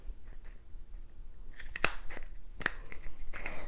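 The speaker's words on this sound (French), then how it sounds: "Va falloir couper là-dessus avec un ciseau." Scissors snipping through paper, a few sharp close cuts clustered after a quiet stretch, with faint handling rustle around them and no voices.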